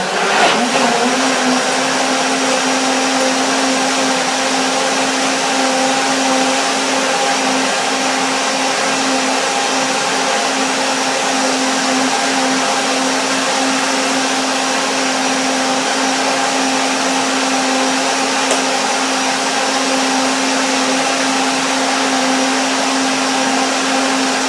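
A blender runs steadily and loudly for the whole stretch, whirring as it blends a tangerine, hazelnut and spinach smoothie, with a constant motor hum and no talking over it.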